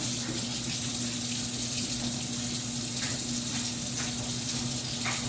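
Water runs steadily from a kitchen faucet into a sink while hand mixer beaters are rinsed off, a constant close hiss with a few faint clinks.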